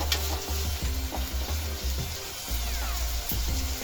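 Shallots sauté with rock salt in hot oil for a crab masala gravy, a loud, close, steady sizzle broken by rhythmic scraping stirs and a low humming buzz underneath.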